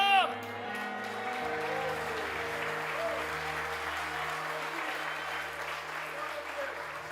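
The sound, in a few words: congregation applause in church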